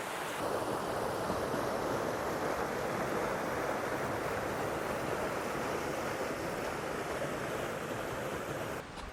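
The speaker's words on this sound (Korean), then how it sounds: "계곡 물소리도 듣고 시원하기도 하고" Steady rushing water from a mountain valley stream fills the whole stretch, a dense continuous wash like a stream flowing nearby, with no voices.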